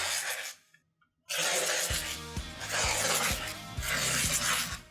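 Quilt fabric is cut into strips with a rotary cutter, giving repeated scraping strokes with short thumps between them, close and clear, after a brief quiet pause.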